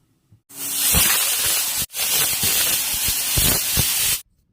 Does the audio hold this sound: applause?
no